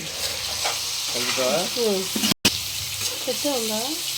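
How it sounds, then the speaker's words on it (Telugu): Onion and green chili frying in oil in a pan for a Telugu chicken curry, a steady close sizzle with brief faint voice-like tones over it. "ఉల్లిపాయ పచ్చిమిరపకాయ అనేది మనం నూనెలో అలాగే ఫ్రై చేసుకోవాలి"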